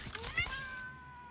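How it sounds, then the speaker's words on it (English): Cat meowing in the video game Satisfactory: a single drawn-out, rising then falling meow, fairly clear and close, with faint background noise. "I did hear meowing."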